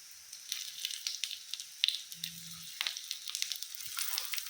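Paneer tikki patties crackle and sizzle steadily in a hot pan for a healthy recipe, with close, busy popping of oil throughout and a brief low hum partway through.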